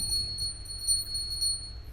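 Small hand bell ringing softly with a sustained, shimmering metallic tone and a few brighter strikes, heard close but fairly quiet, with no voices.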